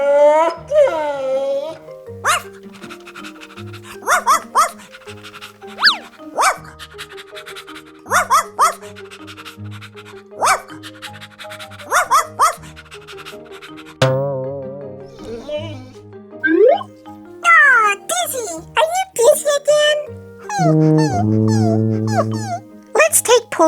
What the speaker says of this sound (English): That dog sounds upset.